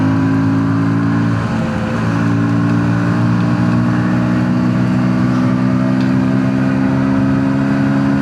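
A KTM Duke 160 motorcycle engine revs loud and close, its steady throbbing note rising gradually as it accelerates through the whole stretch without pause.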